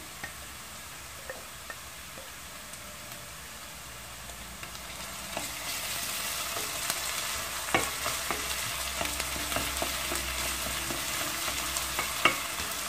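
Tomato paste sautéed in a pan for a leek dish, a low sizzle that grows louder midway, with intermittent scraping and tapping of a spoon stirring, no talking.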